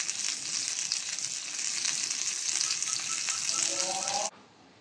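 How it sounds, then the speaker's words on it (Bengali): Tandoori chicken made with packet masala fries in a covered pan, giving a steady, close hiss of sizzling that stops abruptly just before the end. "চিকেন তান্দুরি ভাজা শেষ"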